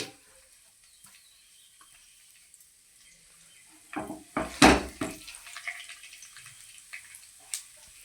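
Tempering of urad dal, mustard seeds, cumin and dried red chillies dropped into hot oil, a sudden sharp sizzle and crackle that flares up midway and then settles into a softer spluttering fry.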